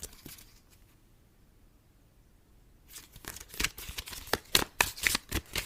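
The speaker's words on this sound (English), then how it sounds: "I'm going to shuffle a few times, see if any cards jump out" Tarot cards are shuffled by hand after a near-silent stretch, a burst of crisp riffling snaps and flutters with uneven rhythm, close and moderately loud, without talk.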